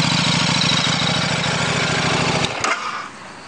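A 2013 KTM RC8 1190R V-twin motorcycle idles nearby with a steady, lumpy low pulse, then the engine cuts off near the end and leaves a fading rattle.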